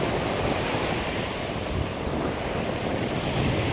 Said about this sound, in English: That's the waves.